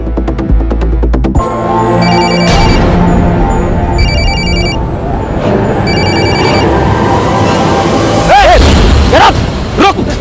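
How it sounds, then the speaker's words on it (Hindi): A telephone rings after a number is dialed in a tense crime drama scene, its repeated tones sounding over loud, dense background music and rumbling effects. "सुन, डायल कर नंबर।"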